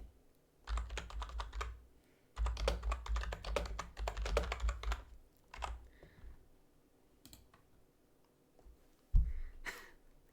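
Close, quiet typing on a computer keyboard in bursts of rapid key taps separated by pauses, with a few isolated heavier keystrokes and soft breathing.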